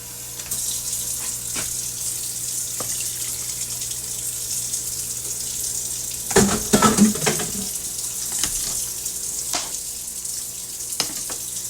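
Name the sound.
water running from tap into cooking pot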